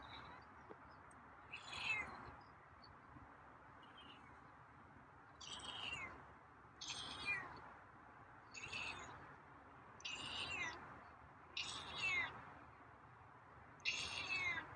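A feral cat gives a series of about seven drawn-out meows at a steady pace, each separated by a short pause, fairly close against a quiet background.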